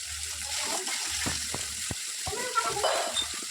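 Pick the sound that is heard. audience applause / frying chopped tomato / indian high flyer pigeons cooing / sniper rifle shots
frying chopped tomato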